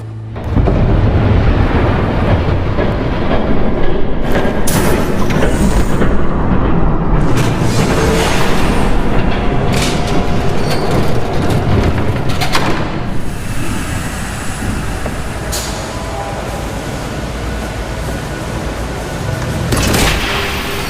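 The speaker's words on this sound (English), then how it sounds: "There's a train coming." A train thunders past in a Batman video game set in Gotham, a loud sustained rumble with clanks and booming bursts that eases slightly toward the end, no speech.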